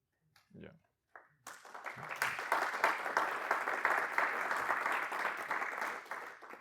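An audience breaks into sustained applause for an answer at a talk about UTreeXO, dense clapping that swells after a few brief spoken words and holds steady, fairly close.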